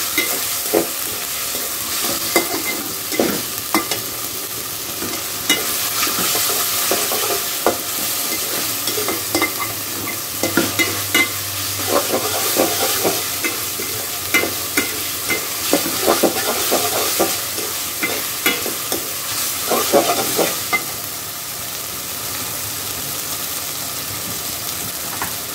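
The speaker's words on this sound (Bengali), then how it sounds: "এখন আমাদের ভালো করে এটাকে ভেজে নিতে হবে।" Green chili paste frying with chicken in a pan, a steady sizzle broken by repeated scraping stirs of a utensil against the pan, close and fairly loud with no talking.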